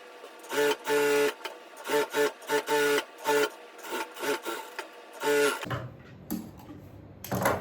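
A sewing machine stitching a blouse runs in short, loud bursts of rapid mechanical chatter separated by brief pauses, then falls quiet apart from a few faint handling taps at the end.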